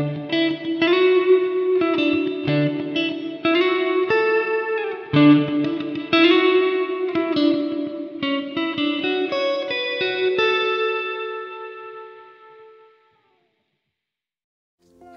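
Electric guitar chords and picked notes ring out drenched in a washy, springy reverb from a Hotone Ampero II Stage EMT 140 simulation, with the final chord decaying into a long lingering tail.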